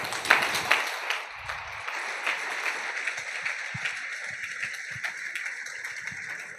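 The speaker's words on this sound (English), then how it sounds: "A round of applause, please." An audience applauds after a business talk, steady scattered clapping that carries on at a moderate level, with a few faint voices underneath.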